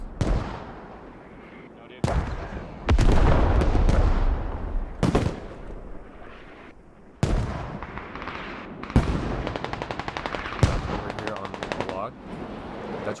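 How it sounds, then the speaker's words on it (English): Artillery and gunfire in the video game Squad during a competitive match, with repeated loud explosive blasts and bursts of rapid automatic fire, some near and some distant, with people talking at times. "Artillery, I don't think it's gonna hit anything."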